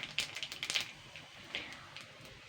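Nigella seeds and a split dried red chilli crackle in hot white cooking oil as a tempering for a potato curry, giving a quiet run of sharp, irregular pops and ticks that thin out after the first second.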